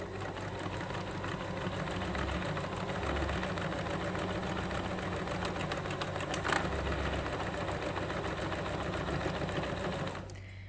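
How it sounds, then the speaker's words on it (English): Sewing machine stitching a buttonhole automatically, a steady close-up mechanical whirr with even rapid needle rhythm running continuously for about ten seconds before stopping. "I just literally sew and it will do the buttonhole itself"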